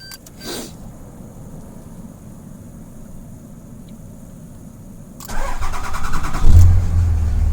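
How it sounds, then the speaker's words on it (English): A 2005 Dodge Ram 3500 diesel triggered by remote start: a quiet idle-like hum with a brief click, then the starter cranks and the engine fires and catches, growing loud and rumbling near the end. "Now you can listen and you can hear the actual crank time here"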